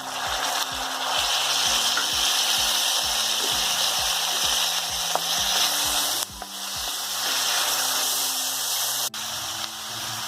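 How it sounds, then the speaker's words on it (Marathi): Coriander stems, curry leaves and grated coconut sautéing in a pan give a loud, steady sizzle, with a regular low knocking beneath it through most of the stretch and brief dips near the end. "कोथिंबीरच्या काड्या होत्या थोड्या त्या घातल्या आणि कढीपत्ता, खोबऱ्याचा किस आहे हा. सगळं परतून घेते"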